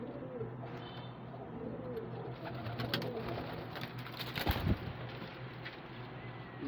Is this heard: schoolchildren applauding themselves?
no